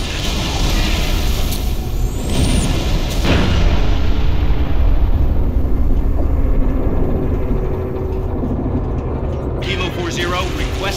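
Artillery fire from final protective fire in the Halo Reach mission Exodus sends booming blasts and rumbling impacts over a steady roar of battle noise, with a sharp crack around the third second and radio voices mixed in.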